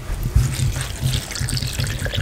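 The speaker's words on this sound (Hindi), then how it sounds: "अब इसके अंदर हम पानी शामिल करेंगे" Water trickles and splashes into a bowl holding dahi bhalla batter mixed with salt, a short, steady pour close by.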